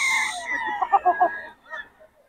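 Young fighting roosters (stags) crow nearby in a short, strained burst that trails off, with faint background voices.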